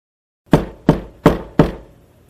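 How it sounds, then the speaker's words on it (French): Four firm knocks on a wooden door in a steady, evenly spaced rhythm, close and clear against silence. "on frappe à la porte"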